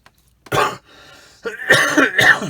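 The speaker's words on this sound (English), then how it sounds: "still fighting this bit of cough from the old flu" Several harsh coughs from lingering flu in quick bursts, close and loud, with a brief pause between them.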